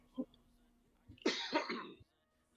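A single short, harsh cough bursts out after a faint brief sound, close and fairly loud, then silence.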